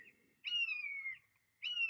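A bird calls outside a window with two clear whistled notes, each held for about half a second, loud against otherwise quiet surroundings, with no talking.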